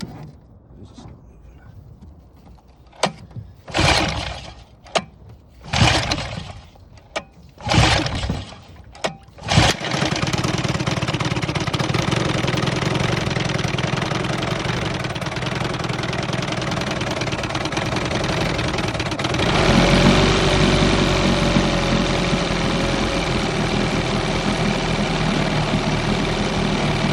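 An Evinrude 18hp outboard motor, first started after 24 years, with the throttle all the way down in the idle position. Several separate rips of the pull cord come first, then the motor catches and settles into a loud, steady idle that continues to the end.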